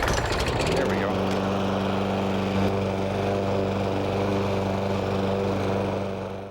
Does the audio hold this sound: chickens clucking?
no